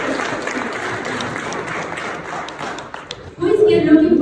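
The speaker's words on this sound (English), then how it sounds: "So please give me that applause before we start" A crowd applauds at a venture capital talk, with steady clapping under a murmur of voices before the noise thins out and a louder burst closes the moment.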